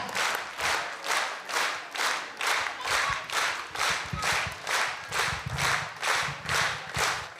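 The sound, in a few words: audience applause at a concert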